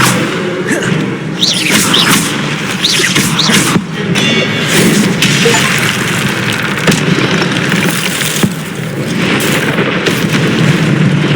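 Incendio fire spell cast in Hogwarts Legacy, a loud sustained rumbling boom and roar of flames that stays dense and heavy across the whole stretch, with brief crackles and no clear talk.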